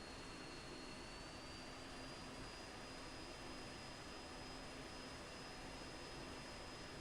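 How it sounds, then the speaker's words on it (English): An F-16's jet engine hums steadily at low throttle while taxiing in the Falcon BMS flight simulator, a quiet, even whine and rumble with no talking. "The F-16 doesn't need hardly any throttle to taxi."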